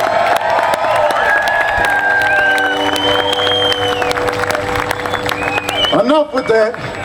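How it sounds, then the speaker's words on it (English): A blues festival crowd claps and cheers steadily in a dense, continuous wash, with sustained tones ringing above it and a voice breaking in near the end. "You can clap for me too if you want to."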